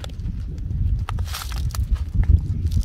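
Goats in a Turkana village in Kenya chew dry maize, making close, irregular crunchy cracking clicks over a low, rumbling outdoor background.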